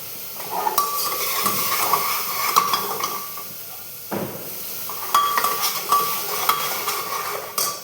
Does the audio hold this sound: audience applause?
no